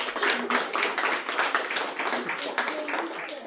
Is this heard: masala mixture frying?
no